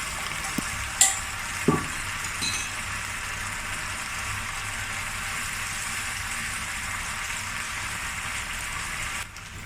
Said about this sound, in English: Then add the eggplant and continue cooking until it becomes soft.